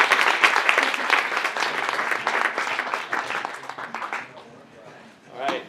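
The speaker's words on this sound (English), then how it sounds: "Give a round of applause for our candidates" An audience at a university student government vice-presidential candidate forum applauds the candidates, loud sustained clapping that tapers off over several seconds, followed by a brief voice at the end.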